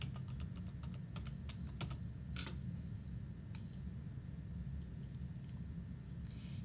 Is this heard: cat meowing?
no